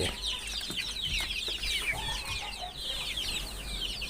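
Chicks peep and cluck continuously in a busy chorus, fairly faint, with steady background noise throughout.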